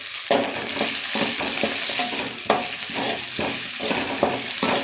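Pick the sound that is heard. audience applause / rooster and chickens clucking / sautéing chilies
sautéing chilies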